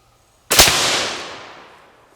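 A single loud, close 6.5 Grendel rifle shot firing a 120gr Speer Gold Dot load, a sharp crack followed by a long, fading echo across an open range.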